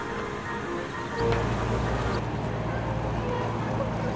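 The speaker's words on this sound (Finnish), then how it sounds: "Nyt tämä purjelaiva, joka kuitenkin kuulostaa moottorivoimin liikkuva ainakin tällä hetkellä, on siinä parkkeeraamassa." Sailing ship at a harbour quay, moving under engine power as it docks; a steady low engine drone rises and holds under waterside ambience and distant crowd chatter.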